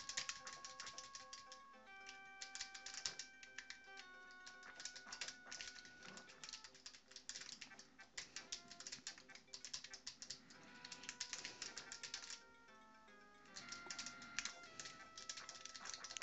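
Computer keyboard keys clicked in quick irregular bursts, close and crisp, while retro Sega Golden Axe game music with bright melodic tones plays underneath.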